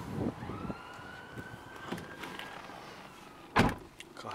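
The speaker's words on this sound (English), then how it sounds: "Full electric window." The electric window on a 2009 Nissan Qashqai+2 2.0 automatic seven-seater glides along with a thin, steady motor whine, heard close up inside the car, ending in a sharp thunk as the glass stops.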